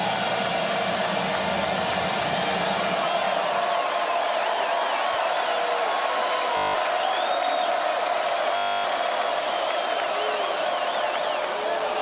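Huge stadium crowd of over 80,000 at a college football game, a dense, continuous roar with whoops and cheers rising from afar, loud and sustained, with a commentator talking over it.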